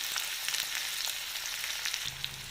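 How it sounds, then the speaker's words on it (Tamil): Chilli idly pieces fry in hot oil with a steady, dense sizzle that stays loud and close throughout, no talking. "நல்லாவே பொரியுது."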